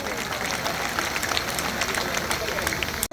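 A crowd at an election nomination rally claps in a dense, steady wash of applause, heard from a moderate distance before cutting off abruptly.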